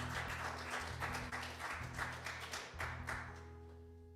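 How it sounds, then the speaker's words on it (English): Applause from a small open-mic crowd after a performance, a steady mid-level patter of clapping that fades toward the end. "One more round of applause for Jimmy and Chris."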